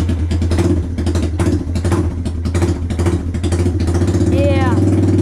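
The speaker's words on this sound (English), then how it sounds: "And we're gonna start her up. This thing sounds like a Harley, so be ready to cover your ears." A Yamaha TimberWolf ATV with its muffler removed idles roughly and loudly with a deep, uneven throbbing exhaust and brief revs, close up, while someone talks over it.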